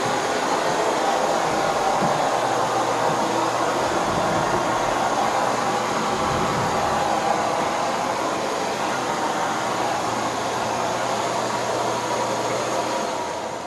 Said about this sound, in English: what's Mrs. VacLab, otherwise known as Ellie, rating for this particular Miele canister in bare floor mode